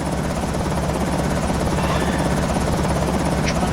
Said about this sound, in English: the helicopter would have drawn all these zombies to my base